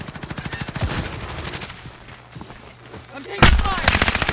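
Rapid automatic gunfire in Call of Duty Warzone, loud bursts of evenly spaced shots rattling continuously, growing heavier toward the end, with no talk over it.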